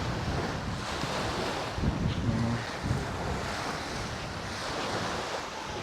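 Sea waves at Summer Bay Beach Resort in Pantukan, Davao de Oro, a loud continuous wash of surf mixed with heavy wind buffeting the microphone throughout.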